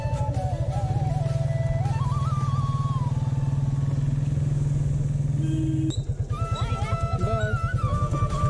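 A motorcycle engine idles with a steady, throbbing putter, then shifts and revs as the bike pulls away, chugging unevenly.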